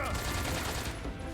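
A quick burst of gunshots in Metal Gear Solid 3: Snake Eater, a dense rattling volley lasting barely a second with a voice faintly underneath.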